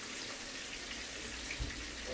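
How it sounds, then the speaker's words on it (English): Water pours steadily into a cooking pot while a spicy tomato coconut cream sauce for smothered fried catfish is made, a continuous close running splash with a faint voice beneath. "Put a little bit more water in there."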